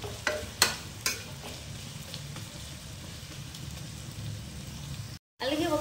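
Onions fry in a pan with a soft, steady sizzle, broken by a few sharp clacks of stirring near the start and a brief gap near the end.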